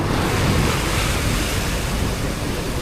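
Continuous heavy roar of rough Pacific Ocean waves churning and crashing during a monsoon storm, heard from a boat, with wind buffeting the microphone throughout.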